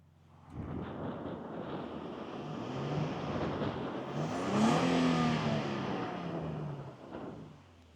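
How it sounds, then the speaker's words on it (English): A 2026 Nissan Frontier engine fitted with a Z1 cold air intake, revved once outdoors: a rising and falling engine swell heavily masked by buffeting wind noise, building over several seconds then fading. "I'm gonna do a small little rev, just see if y'all can tell a difference in the intake."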